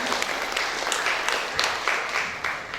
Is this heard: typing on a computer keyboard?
no